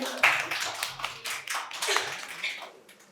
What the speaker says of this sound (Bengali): ম্যাডামের জন্য জোরে একটা হাততালি